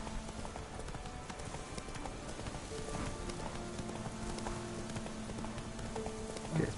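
Horse hooves clip-clop steadily at a moderate pace while riding across open land in the video game The Witcher 3: Wild Hunt, set among faint ambient game sounds.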